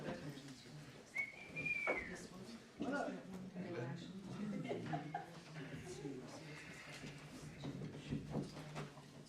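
A short, clear whistle rises and holds briefly amid nearby chatter and some light laughter.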